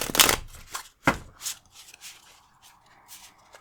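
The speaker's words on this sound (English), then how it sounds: "I'm going to shuffle my cards here off screen." A deck of tarot-style reading cards being shuffled by hand nearby, with a burst of riffling at the start followed by softer irregular slaps and rustles of cards, no voices.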